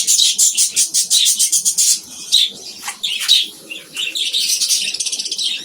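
Budgerigars in a breeding colony chirp and warble close by in rapid, high-pitched bursts, chattering on and off with short pauses and no one talking.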